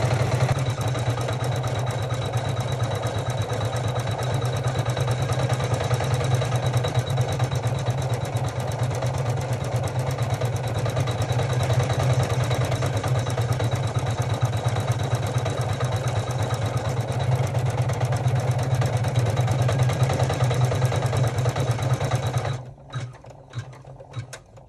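A computerized embroidery machine stitches a quilting pattern, a steady fast mechanical whir with a rapid needle clatter that runs unbroken at even loudness for most of the span before stopping near the end.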